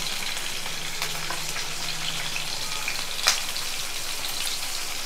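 Ginger, garlic, green chilli and onion fry in a hot pan with a steady, soft sizzle throughout, one brief louder crackle or pop near the middle, and no voices.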